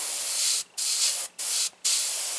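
An airbrush spraying paint onto a T-shirt, a steady close hiss broken by three brief pauses as the trigger is released and pressed again.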